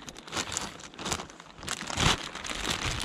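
A small plastic weigh bag used for fish on a winter shore fishing trip crinkles and rustles steadily up close, continuous soft crackling with no talk.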